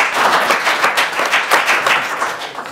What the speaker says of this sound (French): Très bien, il faut l'applaudir